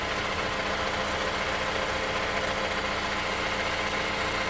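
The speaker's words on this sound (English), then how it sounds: "Filler cap on and start the engine." A 2021 Mazda CX-5 Turbo engine idles after an oil change, giving a steady, even drone with constant loudness and no talking or change in pitch throughout.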